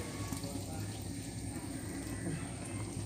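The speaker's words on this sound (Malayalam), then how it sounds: "ഇനി അതിൻ്റെ നടുക്കോട്ട് നമുക്ക് കുറച്ച് വെള്ളം ഒഴിച്ചു കൊടുക്കാം" Water poured into the middle of soybeans frying in a pan, a steady hissing splash and bubbling under ongoing noise.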